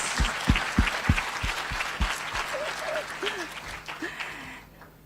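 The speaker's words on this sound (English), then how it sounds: "Let us give them a round of applause." An audience at a women's summit applauds, with dense clapping at first that thins out into scattered claps, a few voices murmuring and the sound fading toward the end.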